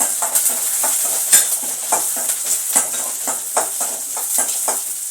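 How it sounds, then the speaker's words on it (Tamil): Onions sautéing in a pan for kovakkai kuzhambu give off a loud, steady, close sizzle, with rhythmic stirring scrapes and light spoon clatter repeating over it. "வெங்காயம் கொஞ்சம் நல்லா வதங்கட்டும்"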